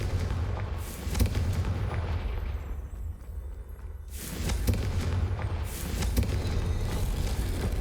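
The Confringo explosive spell in Hogwarts Legacy produces booming blasts over a rumbling game soundscape, with loud bursts near the start and again midway after a brief lull.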